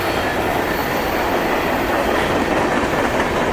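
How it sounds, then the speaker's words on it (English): A long manifest freight train of mixed cars, coil cars among them, rolls past at Germantown with a loud, steady rumble and rhythmic clickety-clack of wheels on rail joints, continuous and close throughout. "Manifest freight train. Mixed freight train."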